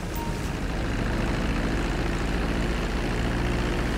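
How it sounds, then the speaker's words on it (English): Airplane engine droning steadily as the aircraft taxis toward a hangar in a video game, a loud, continuous propeller-like hum with no talking. "Taxi the plane into the hangar."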